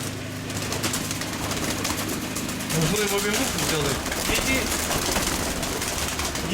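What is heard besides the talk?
young pigeon cooing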